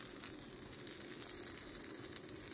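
Hot tempering of spices poured into an ash gourd salad makes a faint, steady, hissing sizzle that stays even for a few seconds, close but quiet, with no talking.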